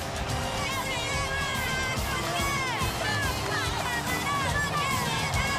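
A sellout stadium crowd at Williams-Brice Stadium in Columbia, South Carolina, for a college football game on a hot, humid Saturday afternoon. A steady, dense roar of many voices fills the whole stretch, with whistles and shouts rising through the din.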